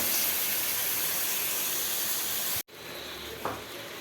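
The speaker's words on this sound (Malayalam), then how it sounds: "ഇനി ഞാൻ ഇതിനെ നന്നായിട്ടൊന്ന് ഇളക്കി ഫുഡ് വെക്കാം കേട്ടോ" Jackfruit and chicken curry sizzling and hissing as it's stirred and sautéed in a hot pan, a steady close frying crackle that briefly cuts out then resumes more softly.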